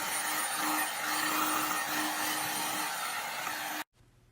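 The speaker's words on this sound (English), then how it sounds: "I take a heat gun. This is just a Black & Decker heat gun." A Black & Decker heat gun blows steadily while shrinking cellophane around a lollipop, a constant close airy whir that cuts off abruptly near the end.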